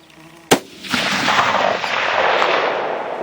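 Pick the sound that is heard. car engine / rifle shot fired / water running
rifle shot fired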